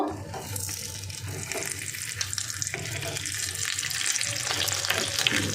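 An egg omelette fries in a pan just after being flipped, giving a steady, close sizzle that holds evenly from start to finish with no talking.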